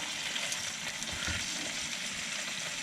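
Food sizzles steadily in a pan on a very low flame inside a camper van while boondocking, a continuous close frying hiss with faint stirring, no voices.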